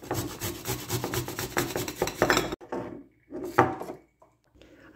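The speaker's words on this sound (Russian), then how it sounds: "Очищаем две головки чеснока, натираем на мелкой терке" Peeled garlic cloves being grated on a fine grater, a steady rapid rasping close up for a couple of seconds, then a few separate scraping strokes with pauses between them.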